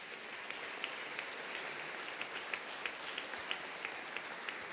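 A church congregation applauding, soft and somewhat distant clapping with scattered sharper claps standing out in an even patter, continuing steadily without voices.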